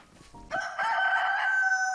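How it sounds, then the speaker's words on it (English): A chicken crows in the DayZ video game, a single loud rooster call that rises sharply and holds for more than a second, close and clear over a quiet background. "Where's that chicken?"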